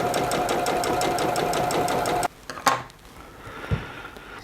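Sewing machine stitching fabric squares together with a fast rhythmic mechanical chatter for about two seconds, close and loud, then stopping, followed by a few handling clicks and knocks.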